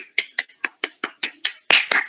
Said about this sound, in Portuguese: Salva de palmas, gente, para eles.